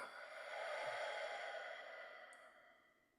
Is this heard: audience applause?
no